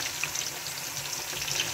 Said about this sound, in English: We are going to allow this to fry for like 2 minutes.